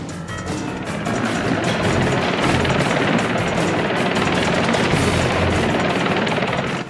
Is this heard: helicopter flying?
yes